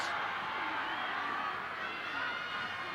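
A stadium crowd at a 1990 rugby league match between Canberra Raiders and Cronulla Sharks makes a steady distant roar, with an excited commentator talking over it throughout.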